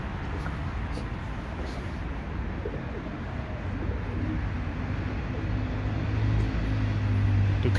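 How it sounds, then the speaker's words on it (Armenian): Pigeons coo in a ring-shaped park, heard against a steady outdoor hum with distant traffic that grows slightly louder toward the end. The cooing is soft and intermittent. "Տեսեք իշ գեղեցիկ աղավնիները"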